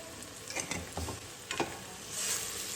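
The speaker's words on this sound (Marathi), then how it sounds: "हे सगळं मिक्स करून घ्यायचं आणि आता हे छान आहे ना कमी गॅसवर परतोय" Paneer rice masala fried on a low gas flame, with a soft sizzle under light scraping and stirring strokes against the pan, quiet and close with no voices.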